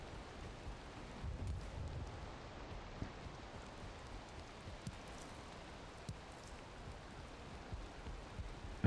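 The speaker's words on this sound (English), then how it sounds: "Is the rain killing the fire?" Steady rain falling in the video game Valheim, a soft continuous patter with occasional louder drops and a faint low rumble, heard without speech.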